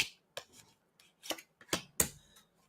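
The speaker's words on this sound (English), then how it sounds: "I have been shuffling and shuffling" Tarot or playing cards shuffled by hand during a live psychic reading, heard as a series of quiet, crisp riffling bursts with short pauses between them.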